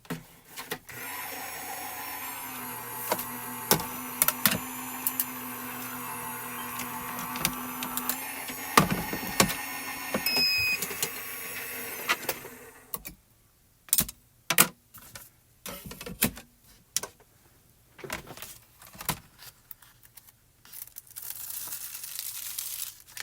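A die cutting machine runs a card through with a steady mechanical whir and hum for about twelve seconds, then stops, followed by scattered clicks and handling taps, no speech.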